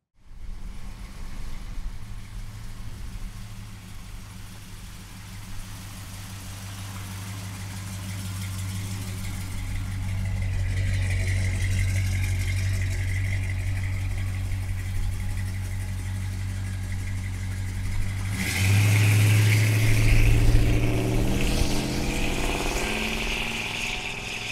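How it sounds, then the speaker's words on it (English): A 1968 Dodge Charger's 440 V8 with aftermarket exhaust idles with a deep, steady rumble, its low throb swelling louder and rougher near the end as the revs pick up. "Listen to that exhaust, man. She sounds great."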